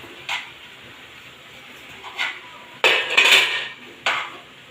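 A cooking pot being handled and covered with a lid while making a pumpkin stir-fry, a few sharp metallic clanks and scrapes spaced apart, loud and close against a quiet background.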